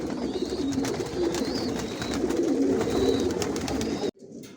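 Racer pigeons coo in a loft holding young birds, steady layered cooing from several birds close by, with no speech, before the sound cuts off abruptly near the end.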